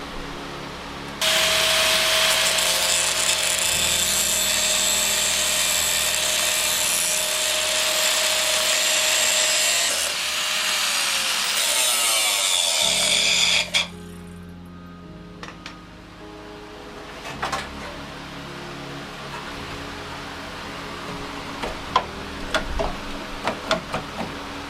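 A power grinder works on the rusty door post of a 1993 Ford Mustang GT Foxbody, a loud continuous whine for about twelve seconds that then stops, followed by clanks and shop noise.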